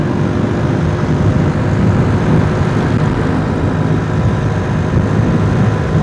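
An old Honda Grand Astrea motorcycle carrying two riders drones along at a steady, loud, low engine rumble mixed with wind, continuous and unchanging with no talk.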